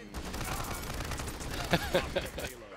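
Rapid gunfire from the character Viktor in the shooter game Paladins, a run-and-gun assault rifle, with a dense stream of shots and a few louder cracks near the end. Voices talk throughout.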